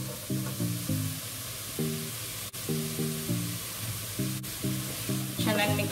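Previously fried ingredients tipped into a hot pan of restaurant-style mixed fried rice, giving a steady close sizzle that runs throughout, with faint tonal background sound and a brief louder burst of frying near the end.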